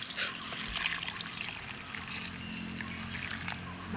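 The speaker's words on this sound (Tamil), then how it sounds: "தண்ணி சூடாயிருச்சு. இதை வந்து மீனில் ஊற்றிடலாம்." Hot water poured over salted dried sura fish in a village kitchen, a steady close trickle and splash of liquid running for several seconds with no talk.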